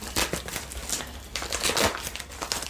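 Packaging from a shopping haul crinkles and rustles close up while being opened with scissors, steady crackly handling noise in bursts across the whole moment with no talking.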